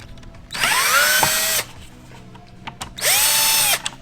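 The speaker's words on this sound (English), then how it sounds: "we're just using a screwdriver just to make it a little bit quicker" Cordless power screwdriver backing out Phillips screws on a Toyota 4Runner turn signal: two loud, close whirring bursts with rising and falling pitch, separated by faint clicks.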